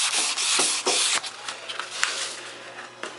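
A motorcycle tank is wet-sanded with water at a grit finer than 400, giving close, short, rhythmic rasping strokes with brief pauses between them.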